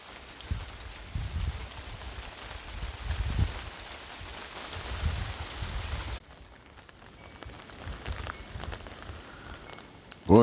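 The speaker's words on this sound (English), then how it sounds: "you don't see rain in these parts this time of the year" Steady rain drums on a tarp during a rare August shower outdoors, a dense continuous patter that cuts off abruptly partway through, leaving a quieter, sparser drip and hiss.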